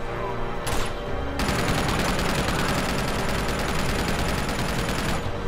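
Sustained loud video-game gunfire in Uncharted 2, a dense continuous volley of rapid shots after a brief opening burst, close and unbroken.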